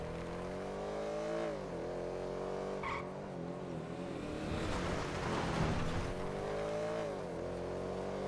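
Racing cars in GTA V with the LSPDFR mod, engines whining and shifting through rising pitch sweeps, with tyre skids and a roaring rush midway, continuous and fairly close.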